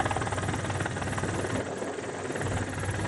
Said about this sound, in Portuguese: Um helicóptero da polícia foi usado para dispersar os banhistas.